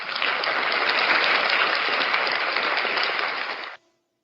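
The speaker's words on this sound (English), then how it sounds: "A round of applause for Miss Susie Tinker." An audience at a Minecraft Education competition awarding ceremony in the Philippines applauds steadily for nearly four seconds, a dense, even wash of clapping that stops abruptly.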